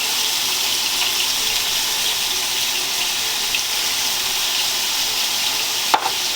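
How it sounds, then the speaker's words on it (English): Seasoned chicken pieces fry in oil in a non-stick skillet, giving a steady, loud, even sizzle throughout, with one brief clink near the end and no voices. "we're just going to go ahead and put our chicken seasoned side down in here and kind of run it around so that it gets some of that good oil on it"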